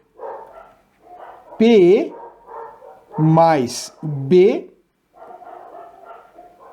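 Two dogs bark in several loud, close bursts, a few single yips and short runs of barks, between stretches of someone speaking.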